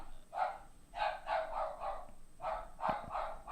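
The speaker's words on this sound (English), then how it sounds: "That's my dog." A pet dog barks in a room, a series of about seven sharp, moderately loud barks in two quick bursts separated by a brief pause.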